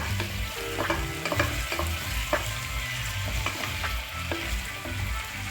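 Matumbo (tripe) frying in a pan and being stirred, a dense continuous sizzle with occasional utensil scrapes and soft knocks, close and fairly loud, with nobody speaking.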